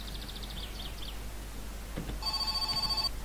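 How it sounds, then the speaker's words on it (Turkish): A telephone rings in the video game My Summer Car, its electronic trill starting partway through and pulsing in a steady rapid rhythm for about a second, clear over a low hum, with a faint chirping pattern earlier. "Telefon çalıyor."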